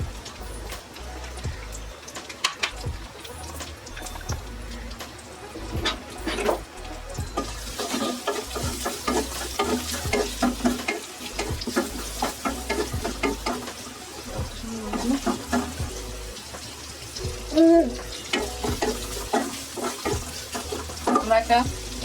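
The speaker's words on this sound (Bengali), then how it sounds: "ভাজা ভাজা করবো।" Chicken bun filling fries in oil in a pan, giving a steady close sizzle with stirring and scraping that grows busier partway through, while a few voices talk quietly.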